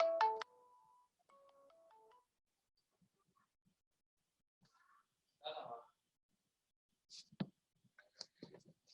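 A telephone ringtone plays a short, clear melody of stepped electronic tones for about two seconds. Near silence follows, broken by a few faint clicks, a brief burst of voices and scattered small noises.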